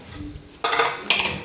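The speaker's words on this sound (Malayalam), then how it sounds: "കുക്കർ തുറന്ന് നോക്കാം." A pressure cooker is opened in a home kitchen: two sharp metallic clatters of lid and pot ring out close by after a quiet start, with no speech.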